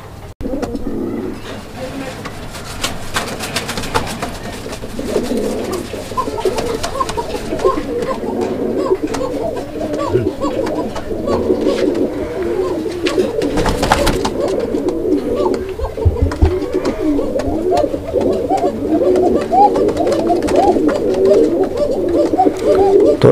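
A male mukhi pigeon coos steadily and close by in a pigeon loft, its low repeated calls running throughout over a soft background murmur of other birds.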